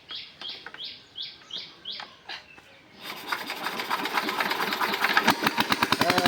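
Small irrigation water pump engine starting up after a few bird chirps, then running steadily with a rapid, loud mechanical chug that builds in intensity.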